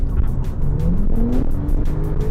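A Porsche 991.2 Carrera GTS engine accelerates up through the revs with rising drone and rhythmic pulsing, loud and close from inside the moving car, without talk.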